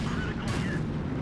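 A tank shell bounces off armor in World of Tanks, a single short metallic crack and boom rising out of continuous engine rumble and game noise.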